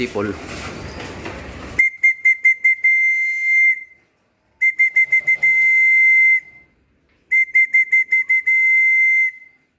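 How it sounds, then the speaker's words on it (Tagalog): A person whistles to call pigeons in three bursts of quick chirping toots followed by long sustained notes, loud and close, with a brief rustle before the first. "Sipulan natin guys, sipol."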